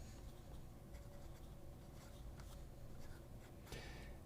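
A fine-nib yellow fountain pen writes on paper, making faint, soft scratching strokes in short, uneven bursts in a quiet room.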